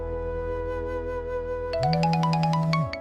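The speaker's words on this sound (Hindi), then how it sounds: "तभी कमला के फोन पर डॉक्टर सीमा का फोन आया।" A short electronic ringtone melody of rising tones plays clearly over a steady background hum, lasting about a second.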